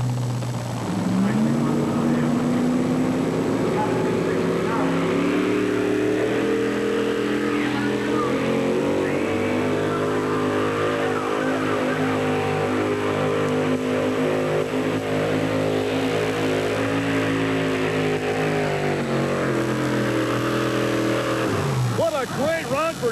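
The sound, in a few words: 4WD truck engine revving during a truck pull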